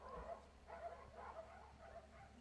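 A dog barking in the distance, a faint series of rhythmic barks and yips repeating about every half second against quiet background hum.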